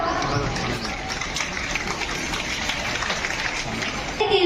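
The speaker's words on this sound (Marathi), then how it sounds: "सर्वांनी टाळ्या वाजवा." Audience at a Marathi Day school gathering clapping together, a dense, steady patter of many hands filling the room, fairly loud and continuous.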